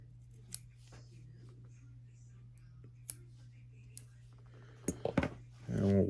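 Scissors snip fly-tying material for a thin mint bugger fly in a few sharp, isolated clicks over a quiet steady hum, followed by a brief voice at the end.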